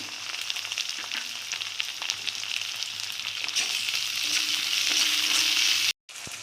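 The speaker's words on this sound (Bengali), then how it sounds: "এবারে রসুনটা ভাজা হয়ে গেছে" Grated garlic frying in oil in a pan for fish curry, heard close up as a loud, steady sizzle with scraping stirs. The sound cuts out for a moment near the end, then the sizzle comes back.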